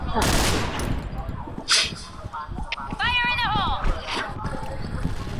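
Rapid bursts of gunfire crackle in a PUBG-style battle royale shooter, sharp volleys scattered across several seconds, with other game effects and chatter from players mixed in.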